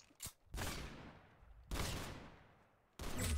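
Gunfire in the Roblox game Arsenal: three sharp bursts of shots, each cracking loudly then decaying into a trailing rumble, with a small click just before the first.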